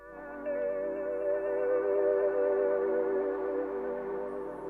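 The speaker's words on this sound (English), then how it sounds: "I added a little bit of omnisphere for the atmosphere." A soft, sustained Omnisphere synth pad for a lo-fi track holds a warm, steady chord, swelling in gently and fading slightly at the end, with no other sounds.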